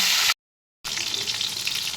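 A hilsa fish head fries in oil in a wok, giving a steady, loud sizzling hiss that cuts out completely for a moment and then resumes just as strongly.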